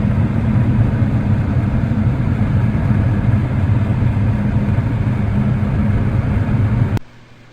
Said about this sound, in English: Gas is ignited.